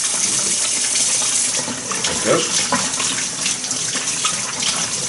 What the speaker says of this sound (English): is wash it with cold water,